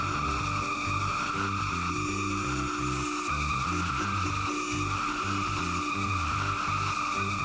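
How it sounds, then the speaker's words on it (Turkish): Tires squeal continuously as a car does a burnout in the Roblox game Driving Empire, a loud sustained screech over a rumbling engine with no voices. "Lastik yakacağım."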